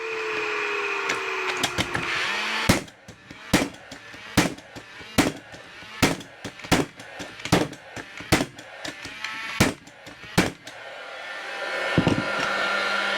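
Hybest GFN3490 nailer firing nails into wood, a run of about a dozen sharp, loud pneumatic bangs in quick, fairly even succession over steady background hiss.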